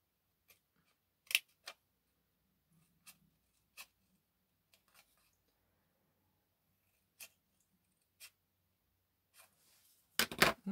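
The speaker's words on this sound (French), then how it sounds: "Donc on coupe sur les traits." Scissors cut along drawn lines of a paper lipstick box, making crisp, close, isolated snips spaced a second or two apart, then a quick burst of rapid cuts at the end.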